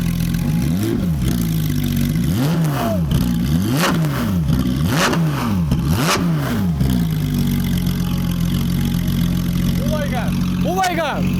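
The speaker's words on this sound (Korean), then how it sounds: "이 비싼 티탄 배기음은 또 달라서" A car engine with an Akrapovič titanium exhaust revs hard several times in quick succession, each rise and fall loud and close, then settles into a steady idle while a voice speaks.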